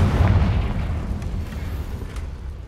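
A Confringo blasting spell goes off in Hogwarts Legacy, a deep, rumbling boom that hits hard at the start and rolls on as a sustained low roar, fading slowly without any voices.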